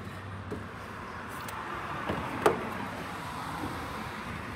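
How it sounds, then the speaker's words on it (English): Steady, moderately faint car traffic on a busy street beside a parking lot, a continuous low rumble broken by a few light knocks and one sharper clank. "You're just gonna have to put up with the noise from the traffic, because we're working on a trailer in our parking lot and we're on a busy street"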